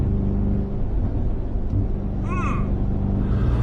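A Mercedes-AMG G63 engine rumbles steadily and loudly up close, with a brief higher-pitched exhaust burble partway through.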